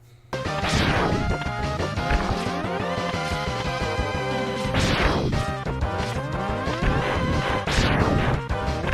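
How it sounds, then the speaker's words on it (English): Charged shot effect from the Mega Man X video game, a dense chiptune buzz repeating in several bursts, each with a sharp sweeping blast, loud and continuous without speech. "The charged shot from Mega Man X."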